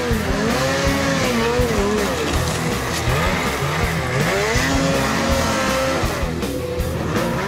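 A Ski-Doo 850 snowmobile engine revs and whines loudly and steadily, its pitch rising and falling in waves, with no talking.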